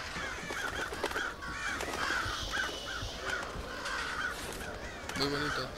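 Crows caw in repeated harsh calls throughout a scene in the stealth video game Thief, steady and fairly close, with a voice speaking briefly near the end.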